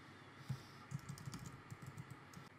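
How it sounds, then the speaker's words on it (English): A name is typed on a computer keyboard: quick, soft key clicks in an uneven rhythm, close and quiet, with no one speaking. "I'm going to type in my name here."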